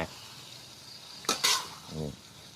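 Morning glory stir-frying in a hot wok, with quiet background hiss broken by two short, bright bursts of sizzling as the greens hit the pan, followed by a soft low sound.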